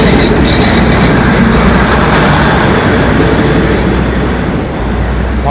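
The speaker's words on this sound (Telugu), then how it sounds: "సో అది లాస్ట్ ట్రైన్ వెళ్ళిపోయింది" The four-car Maha Chai market train near Bangkok passes close by with a loud, continuous rumble and roar that hold steady throughout, fading only slightly toward the end.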